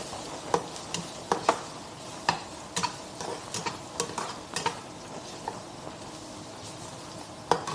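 Onions frying in a pan with turmeric for a restaurant-style Indian curry, a steady sizzle broken by scattered clicks and scrapes of stirring, close and moderately loud with no talking.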